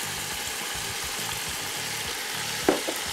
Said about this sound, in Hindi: यहाँ पर चिकन भी बड़ा बेहतरीन सा यहाँ पर भुनाई हो रही है